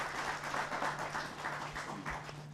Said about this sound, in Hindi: एक बार फिर से जोरदार तालियां हो जाए हमारे विशेष मेहमानों के लिए